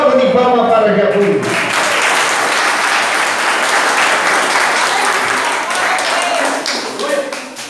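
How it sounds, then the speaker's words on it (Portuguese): A church congregation applauds loudly and steadily, a dense wash of many hands clapping close by that carries on for several seconds and tapers slightly at the end, with a voice speaking over the start. "E uma grande salva de palmas para Jesus"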